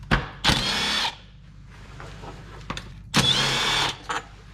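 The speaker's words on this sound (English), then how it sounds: "now we need to take our bolts off here" Bolts come off a Can-Am vehicle under repair with a power drill, heard as two loud whirring bursts close by, separated by quieter handling noises.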